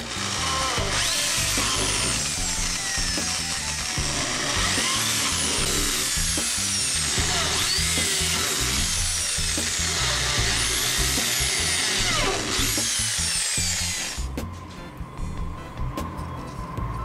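Power drill boring holes for a fan in a homemade incubator, a loud continuous whining drill with rising and falling pitch sweeps as it bites, stopping near the end to leave quieter clatter.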